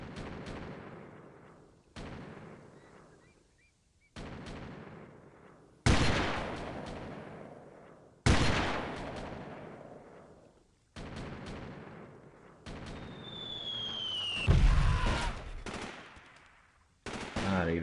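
Artillery strikes from a fire mission in the military shooter Delta Force 2 arrive as about eight heavy, booming impacts roughly two seconds apart. Each one rolls into a long, fading echo, and one is joined by a brief whistling streak.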